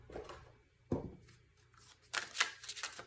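Tarot cards shuffled by hand, a few brief papery riffles and slaps at close range, quiet, with no talk over them.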